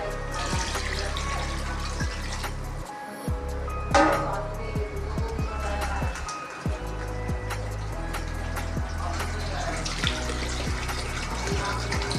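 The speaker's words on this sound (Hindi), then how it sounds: "फिर इसमें और पानी डालना है।" Water poured from a tap into a cooking pot while preparing paya, a steady close splashing flow with clattering handling noises and brief pauses.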